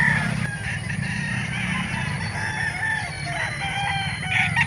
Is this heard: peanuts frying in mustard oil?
no